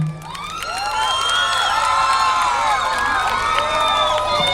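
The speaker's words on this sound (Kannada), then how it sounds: "ಒಮ್ಮೆ ಅದಕ್ಕೂ ಕೂಡ ಜೋರಾಗಿ ಚಪ್ಪಾಳೆ ಬರಬೇಕು" Loud crowd cheering, whoops and shouts with scattered clapping for an actor on stage at the Sirsi Utsava 2025 festival, a sustained roar rising after the first moment and holding steady throughout.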